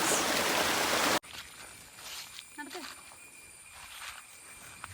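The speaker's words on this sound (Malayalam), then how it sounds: "വെള്ളത്തിൽ കളിച്ച് വെള്ളം തെറിപ്പിച്ച് കളിച്ച്" A child splashes water while playing outdoors, giving a loud, dense burst of splashing for about a second before it drops to a quieter outdoor background.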